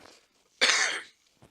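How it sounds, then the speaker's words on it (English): A single sharp cough bursts out close by after a short quiet, followed by a faint breath. "excuse me, I need to cough."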